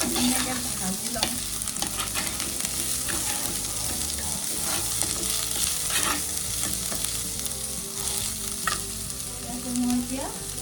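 Beans frying in a pan over low heat, a steady close sizzle with frequent scraping stirs of a spatula throughout, no voices.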